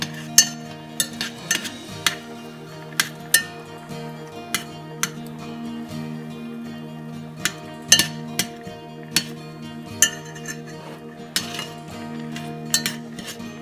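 A spoon stirs masala chai simmering in a pot, knocking and clinking against the metal in an irregular string of sharp taps over a steady low bubbling hum.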